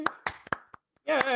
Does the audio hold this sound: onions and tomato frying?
no